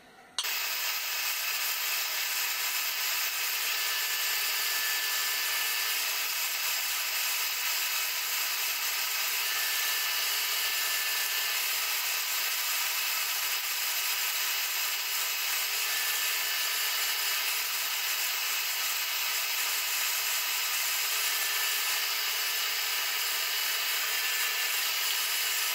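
A belt grinder running a zirconia belt grinds a knife bevel for a satin finish, a steady, loud, high abrasive whine that holds unbroken and close for the whole stretch, with no voices.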